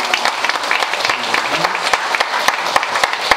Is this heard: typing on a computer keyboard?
no